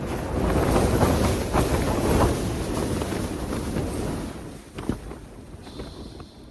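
Wind buffets a tent on a freezing winter mountain, a loud broad roar that rushes steadily, then eases and drops away toward the end.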